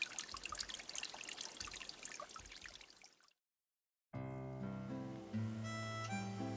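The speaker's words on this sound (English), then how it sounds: "The spring trickles up through some rocks and fills the pond even during droughts." Spring water trickles over rocks into a reed-lined desert pond in Big Bend, West Texas, a close, steady patter that cuts out abruptly and gives way to a different, tonal sound.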